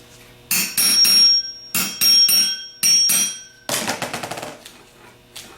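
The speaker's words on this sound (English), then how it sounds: "Tap it down on there. And then tap around the outside edges." A hammer taps a bushing down into a 10MT starter housing in sharp metallic clusters of two to three quick strikes, then a faster run of lighter taps around the edges, close and loud with a ringing tone.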